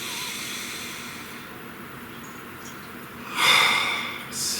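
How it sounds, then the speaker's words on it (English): A single deep breath drawn in and let out fairly close, a soft rushing inhale swelling near the end over a faint steady background hiss, with no talking. "Please take a nice deep breath."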